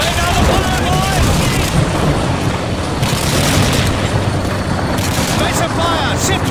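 Dense, continuous gunfire and booming explosions in the WWII shooter Call of Duty 2 during a town assault, loud and chaotic without pause, with soldiers' shouted voices mixed in.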